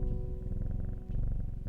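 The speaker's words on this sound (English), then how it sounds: "Let's listen to that purring for a second." A cat purring in the video game Strange Horticulture, a low continuous rumbling purr with a steady pulsing rhythm, close and soft, heard alone without talk.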